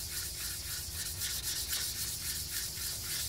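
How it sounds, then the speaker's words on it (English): Steady wet sandpaper rubbing paint on a Buell XB9SX motorcycle tank cover, a rasping hiss that swells and fades in regular back-and-forth strokes, close up with no voices. "That's what wet sanding does."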